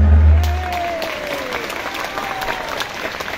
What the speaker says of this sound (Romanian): Aplauze pentru minunată orchestră, ansamblului Doina Gorjului.